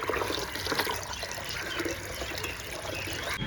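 Water is poured and mixed in for watering curry leaf and vegetable plants, a steady close trickling and splashing flow that runs throughout without talk.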